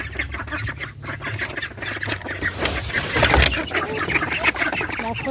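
A flock of hungry ducks quacks noisily and continuously near a duck and chicken house, overlapping calls building slightly louder toward the middle.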